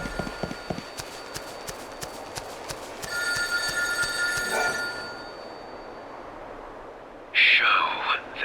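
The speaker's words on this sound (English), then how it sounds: "When the phone rings, answer it and say the 4 numbers." A telephone rings in Lightning Returns: Final Fantasy XIII, repeated bright bell-like trills midway amid soft footsteps, followed by a louder tonal game sound near the end.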